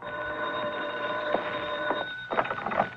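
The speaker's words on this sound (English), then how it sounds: "I got a phone call." Telephone ringing in a radio drama, a steady electric bell tone with repeated ring pulses, moderately loud and heard alone without talk.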